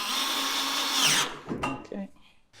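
A power drill drives bolts into the top of a boat galley subframe, a loud steady whir running for just over a second before stopping, followed by a few clanks and softer handling noises.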